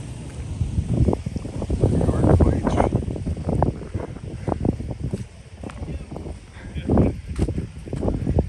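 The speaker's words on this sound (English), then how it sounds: "Now the wind is to my back, so it should make casting a little easier." Wind buffets the microphone outdoors while fishing, steady rumbling gusts rising and falling throughout, loud and close.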